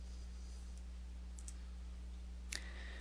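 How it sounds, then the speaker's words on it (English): A Tab key on a computer keyboard is pressed with one faint click, among a few other soft clicks against a steady electrical hum. "click into that last cell right here, and then click the Tab key"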